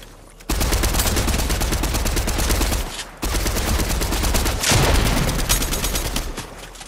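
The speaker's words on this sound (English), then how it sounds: "Oh, he shoot back." Loud, rapid automatic gunfire from a video game fires in two long sustained bursts separated by a short pause, the shots packed into a dense rattling stream up close.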